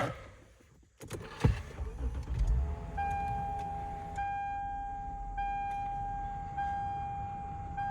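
A 2009 Lexus GS350 engine cranks and catches, settling into a low idle, while high steady chime tones ring out from the dashboard.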